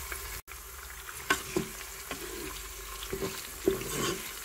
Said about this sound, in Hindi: इसे सौते करेंगे। कुकिंग स्टार्ट हो गई है, जब ये प्याज ब्राउन होगा